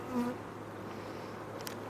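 Honey bees buzz softly in a strong colony during an open hive inspection, a faint steady hum in the background with no talk.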